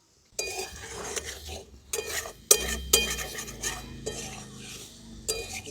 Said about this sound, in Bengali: দেখুন সমস্ত কিছু আমি হালকা হাতে নাড়াচাড়া করে নিয়েছি